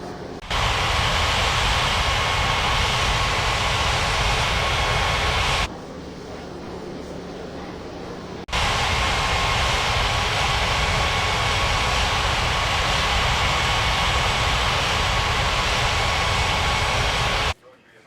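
A jet airliner engine drones steadily and loudly as the aircraft taxis to the runway in a flight simulator game, continuing for most of the stretch with a brief quieter dip partway through.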